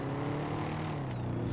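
Steady engine drone of a car driving in GTA 5 during an online lake-tour race, a continuous low hum with no talk.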